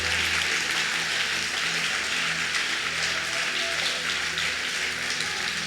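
A church congregation applauds in a dense, steady wash of clapping that lasts the whole stretch, fairly distant and even, with no voices standing out.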